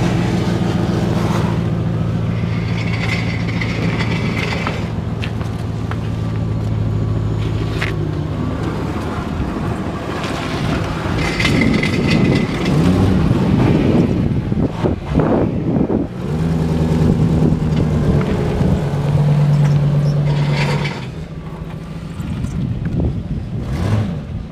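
A lowered car's engine and exhaust drone loud and close as it drives, with deep rumbling and revving that shifts in pitch and has no voices over it.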